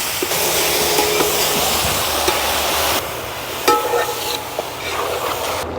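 Deer meat curry being stirred in a pan as part of a home-style Kerala cooking session, with steady broadband scraping and sizzling that runs continuously, then a few sharper spoon clinks near the end.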